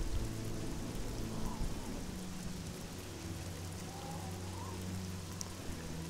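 Steady rain falling in the video game Oblivion, a constant broadband hiss with low rumbling underneath, continuous and even throughout with no voices.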